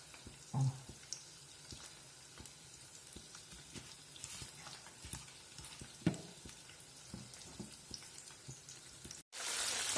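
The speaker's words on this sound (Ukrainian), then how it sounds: "Дивіться, вони смажуться ці діволаї" Steady crackling sizzle of fritters frying in hot oil, continuous and close, with occasional pops and a brief clatter near the end.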